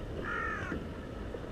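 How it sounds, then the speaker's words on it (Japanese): A crow caws once from some distance beside Lake Sagami during a boat outing, a single drawn-out harsh call heard over steady outdoor background noise. "カラスも帰れと言ってるのか。"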